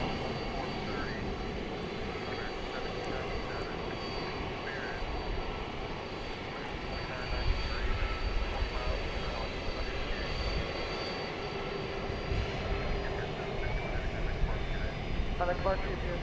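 A jet airliner taxis toward takeoff at DFW Airport at night, a steady, loud engine roar and whine filling the scene, swelling slightly midway, with indistinct voices faintly beneath.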